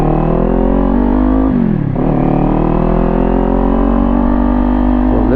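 A Kawasaki motorcycle with a Leo Vince GP Corsa exhaust revs loudly and steadily up close, with a brief dip in engine speed before climbing again.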